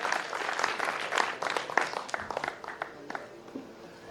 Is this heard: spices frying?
no